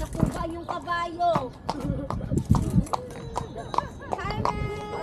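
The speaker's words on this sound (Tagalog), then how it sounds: "Oh, nakuha yung kabayo." Horse hooves clip-clop in an irregular, close rhythm during a farm tour, with people talking over them.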